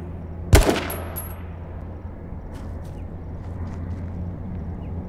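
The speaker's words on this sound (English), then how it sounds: "I shot a man." A single loud gunshot cracks near the start in the video game H1Z1, followed by a low steady background rumble and a few faint clicks.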